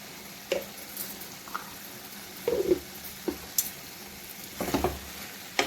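Gongura curry with salt just added is stirred in a pot, giving soft scattered scrapes and light sizzling taps at close range with no talk.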